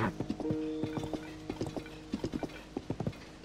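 Hoofbeats of a large horse in Zelda: Tears of the Kingdom, a steady irregular clip-clop of many close, distinct hoof strikes over a quiet background, with no talk.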